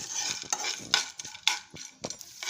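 Pumpkin seeds fry in ghee, stirred with a utensil in short, irregular scraping strokes and light clinks over a soft sizzle, close and without voices.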